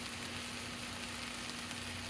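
Leafy garden weeds cook down in a pan with a soft, steady sizzle, a faint continuous hiss without breaks or other sounds.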